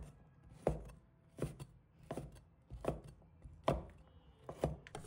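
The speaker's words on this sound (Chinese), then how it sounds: "再准备一条腊肠，把它切成条。 再切成小粒" A knife chops Chinese sausage into small dice on a cutting board, giving seven evenly spaced, firm thuds that sound close and fairly loud, with no talking.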